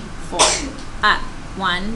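A single sharp sneeze bursts out in a math classroom, set between a teacher's counting speech.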